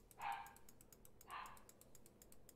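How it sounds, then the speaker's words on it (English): Two short barks from a dog come a second apart, moderately close, over rapid keyboard typing clicks and a quiet background. "Angry doggy."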